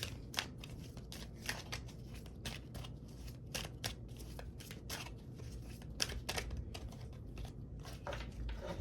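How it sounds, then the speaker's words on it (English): A deck of reading cards shuffled in a quiet room, a soft, rapid run of papery clicks and riffles that keeps going throughout with no talk. "Give these another shuffle."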